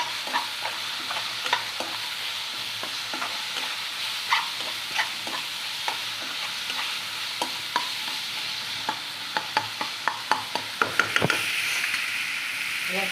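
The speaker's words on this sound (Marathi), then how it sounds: "हे वाटण बी चांगलं आपलं तेलामध्ये फ्राय होईल." Ground spice paste frying in oil, with a steady sizzle and a series of sharp spoon taps and scrapes against the pan, growing more frequent toward the end.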